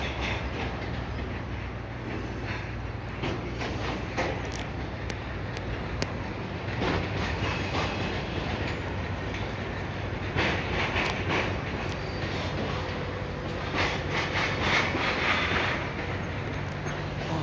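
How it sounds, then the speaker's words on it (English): A train switching cars rumbles steadily nearby beside a prairie, with scattered clanks and metallic clicks of cars shifting on the tracks, continuous throughout. "You can hear that train is still switching next to me here."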